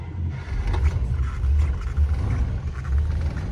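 A 1952 Buick Super Eight's engine rumbles loud and close, a low throaty idle that pulses unevenly through the whole clip with no talk.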